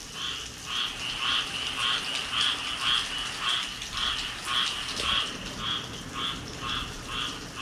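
A frog croaks outdoors at night in the rain, sending out a steady train of short, rasping pulses several times a second, fairly close, over a soft wash of rainfall.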